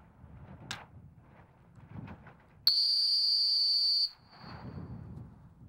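A single long, loud whistle blast at a retriever dog field competition, held steady for about a second and a half between stretches of faint background talk.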